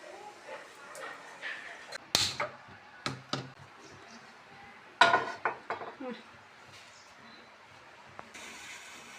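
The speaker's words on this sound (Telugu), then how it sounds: "సో ఈ రెండు కేజీలు గిన్నె పెట్టుకున్నాం" A large two-kilogram metal cooking pot is set down and handled, with sharp clanks and scrapes in two clusters near the middle, close by, while a person talks throughout.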